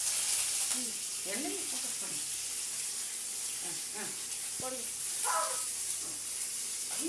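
Curry leaves drop into hot oil with mustard seeds in a home kitchen, giving a steady soft sizzle and hiss with a few sharp crackles and pops, fairly quiet and close.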